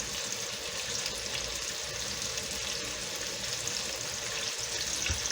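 Okra frying in a pan and stirred, with a steady, dense sizzle and crackle running evenly throughout, up close and with no talking.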